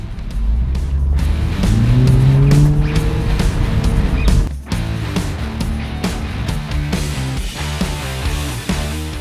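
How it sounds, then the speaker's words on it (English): Turbocharged four-cylinder Mini Cooper S Cabriolet driven hard with the roof down: a loud, close engine note rises through the gears, with a sharp dip at a gear change, a blow-off valve chirp, turbo spooling and a slightly spotty exhaust. "you can really hear all those mechanical noises oh so well. The chirp of the blow-off valve, the turbo spooling up, and of course that slightly spotty exhaust note"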